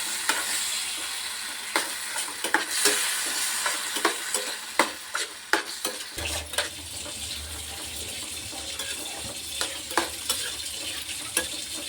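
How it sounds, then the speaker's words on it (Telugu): Tomato pieces frying in a pan give a soft sizzle, while a spatula makes repeated sharp clinks and scrapes against the pan. A low running hiss, like a tap, joins partway through. "రెండు టమాటా ముక్కలను వేయాలి"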